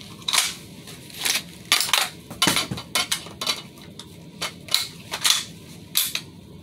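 A toy gun being reloaded, a quick run of close, sharp plastic clicks and clacks in uneven bursts, loud and dry with no voices.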